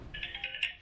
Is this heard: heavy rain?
no